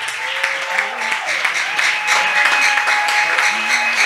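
A church congregation at a Sunday service applauds in praise, a loud sustained burst of clapping from many hands, steady and dense with voices mixed in.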